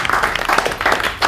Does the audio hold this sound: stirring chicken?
no